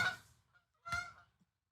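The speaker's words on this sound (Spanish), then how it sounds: "Siguen pasando los gansos." Geese honk as they fly past, two distinct loud nasal honks about a second apart, with a faint short call trailing after, set against near silence.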